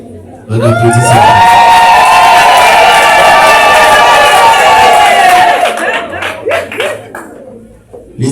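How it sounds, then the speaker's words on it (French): Wedding guests at an official ceremony burst into loud, sustained applause and cheering, a dense crowd roar with whistles and shouts that swells for several seconds before tapering into scattered claps and chatter. "On applaudit ça."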